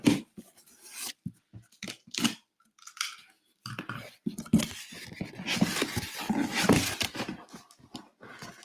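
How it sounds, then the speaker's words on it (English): A cardboard case of Revo Blaster card boxes gets cut open, bursts of scraping, rasping slicing and rustling cardboard, sparse at first, then a longer busy stretch of cutting and handling, close by with no talking. "I'm going to cut the case open and stack the boxes up."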